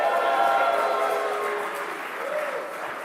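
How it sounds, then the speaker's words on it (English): A debate audience at a Bitcoin versus tokenized gold event cheers and claps in response to the host, a steady roar of crowd noise and applause that stays loud, then eases slightly near the end. "Could you make some noise if you'd like Bitcoin to win this debate?"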